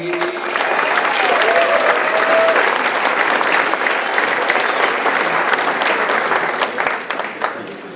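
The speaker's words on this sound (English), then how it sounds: "Guys, an applaud right now for the one, the only Mr. Kevin McPeek, everybody." A comedy audience applauds for comedian Kevin McPeek, dense sustained clapping from a crowd that swells, holds for several seconds and then gradually thins, with a brief voice heard early on.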